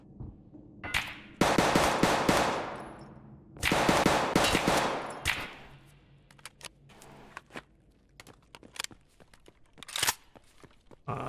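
Gunfire in Escape from Tarkov, with two long bursts of rapid automatic fire followed by scattered single shots and footsteps, fairly loud and with no talk.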